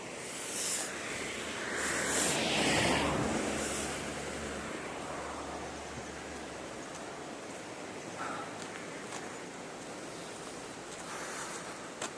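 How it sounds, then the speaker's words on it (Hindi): Cold wind blows steadily across an open snowy Himachal mountain roadside near Keylong, a broad rushing noise with a stronger gust early on, heard alone without talk. "सरसर सरसर हवा चल रही है, बहुत ही ठंड है।"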